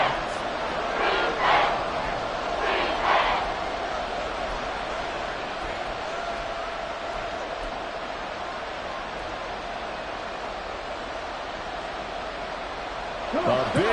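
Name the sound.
crowd noise rising in Madden football video game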